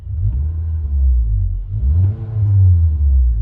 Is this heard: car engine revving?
yes